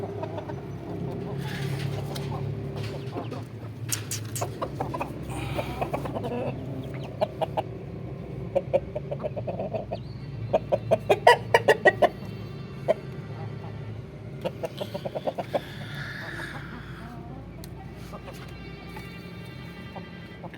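A newly bought hen and rooster fighting, with repeated sharp clucks and squawks in bursts, loudest in a flurry near the middle, over steady background noise and some faint human voice.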